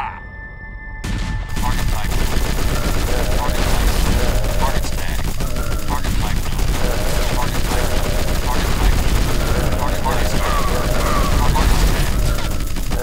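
Sustained gunfire against an attacking swarm of cultists in the strategy game Sunage, Federal campaign: a loud, continuous rattle of overlapping shots and bursts that starts after a brief quiet moment and never lets up.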